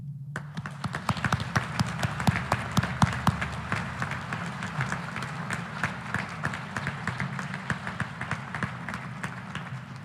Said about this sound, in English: Let's give one last round of applause to our 9 honorees today.